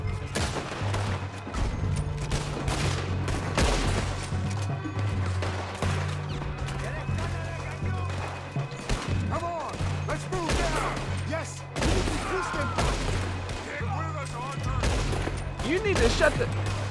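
Gunfire in the Western video game Red Dead Redemption 2 during a fight with soldiers: repeated rapid shots and booming reports against a low music bed, with someone talking over the action.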